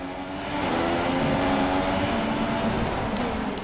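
Race car engines in the F1 2016 game drone steadily at high revs as cars run close together on track. The sound is loud and constant for the whole stretch, with no talk over it.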